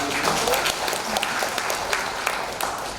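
An audience applauds at a formal university MoU signing ceremony: a sustained, fairly loud patter of many hands clapping at once, dense and even throughout, with no speech over it.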